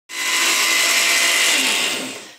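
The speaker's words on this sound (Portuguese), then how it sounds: "eu vou bater aqui no liquidificador o ovo, o açúcar, o suco da laranja e o óleo" A countertop blender whirs loudly and steadily as it mixes egg, sugar, orange juice and oil for an orange cake batter, a continuous high-pitched motor roar lasting a couple of seconds with no talking.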